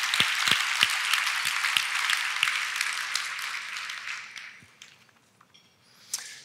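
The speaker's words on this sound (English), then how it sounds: "Let's give him another round of applause anyway." An audience at a city address applauds steadily for a few seconds, then the clapping thins out and fades to near quiet, with one last brief sound near the end.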